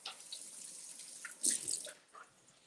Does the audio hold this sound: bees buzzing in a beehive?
no